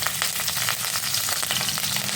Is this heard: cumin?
yes